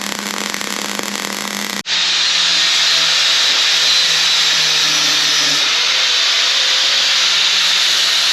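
Tack welding a small bar onto a front hitch for a winch on a 650 Arctic Cat Prowler, a steady loud hissing, crackling arc lasting several seconds after a brief lower hum, close and alone.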